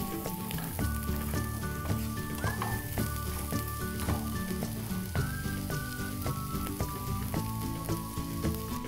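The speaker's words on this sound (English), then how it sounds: "Give it a good stir and let the onions cook until translucent." Chopped onions and green chili frying in a pan for a Goan fish caldine, a steady crackling sizzle broken by repeated scraping and clinking as a spoon stirs, close and moderately loud with no talking.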